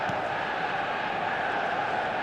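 A stadium crowd roars in a football video game match, Brazil against Manchester United, a dense, steady wall of distant cheering and chanting that holds without a break.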